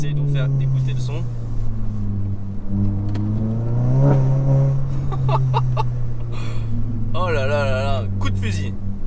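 Volkswagen Golf 7 GTI Performance engine on a small road, a steady droning hum that swells briefly in pitch, with passing vehicle noise and someone speaking over it.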